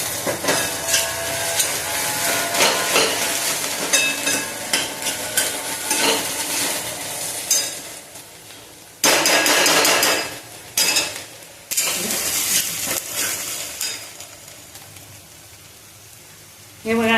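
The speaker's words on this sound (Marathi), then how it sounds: "आपला कांदा चांगला फ्राय झालेला आहे" Onion fries in oil in a pan for egg bhurji, a continuous sizzle broken by frequent spatula scrapes and clinks against the pan, with loud bursts near the middle and end.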